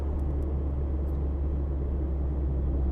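A Mazda MX-5 ND with a CleaR Motorsport sound tube cruises at light throttle, giving a steady low engine drone and road rumble that stays even and subdued throughout, with no voices.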